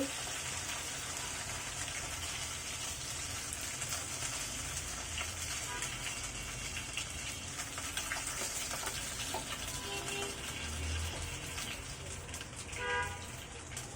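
Bele fish frying in a pan for a bhuna curry, a continuous broad sizzling hiss with a few brief splutters and clinks late on.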